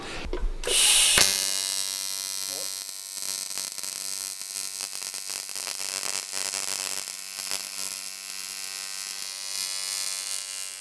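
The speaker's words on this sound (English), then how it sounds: "It just seems to weld like... Not doing a great job, Josh." Welding on a metal frame for a drift track build: a brief loud hiss at the start, then a continuous close electric buzz with faint crackle that holds steady throughout, with no voices.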